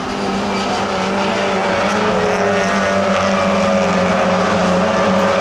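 Several pre-1966 Mini racing cars roar past in a dense, continuous pack at Brands Hatch circuit, engines droning loudly and steadily with no pauses.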